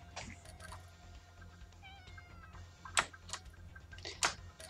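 A cat meows a few times, short close calls rising above quiet room noise with faint ticking and a low hum, no talking.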